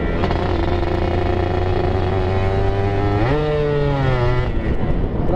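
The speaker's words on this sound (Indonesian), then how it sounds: "Lebih kering guys, kalau diselip ini knalpot kering banget." A Suzuki Satria 120R motorcycle with an aftermarket exhaust idles close by with a loud, dry, droning note, then revs sharply upward partway through, holding the higher pitch before settling back down.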